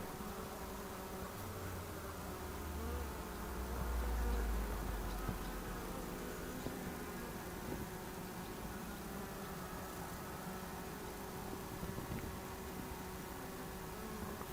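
Honeybees hum steadily across a hive frame that holds two queens, a continuous faint drone with a slight swell near the start.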